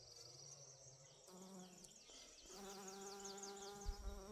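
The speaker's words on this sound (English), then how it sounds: "Look at the bee doing its job for me." A bee works a garden flower, its buzzing drone close and steady for a few seconds, blended with birdsong chirping nearby in the outdoor setting.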